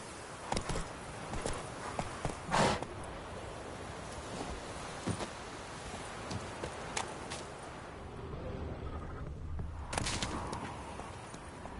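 Horse hooves clip-clop steadily in The Witcher 3 video game as the mount walks along, a continuous rhythmic patter of near, moderately loud steps with a few sharper knocks and faint rustling in the background.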